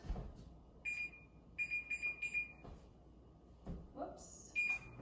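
An oven's electronic beeper chirps in a few short bursts as the oven is started, close and clear, with quiet room noise between the beeps.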